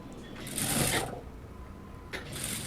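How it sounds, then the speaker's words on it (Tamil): A sewing machine runs a quarter-inch seam on folded blouse lining in two short bursts of rapid mechanical whirring, separated by a quiet pause, with no talking. "1/4 இன்ச் அகலத்தில் தையல் போடுறோம்."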